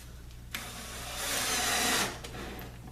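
A power drill drives a screw into a wooden table saw cart: a sharp click, then a steady motor whir of about a second and a half that rises, near and loud, over low background hum.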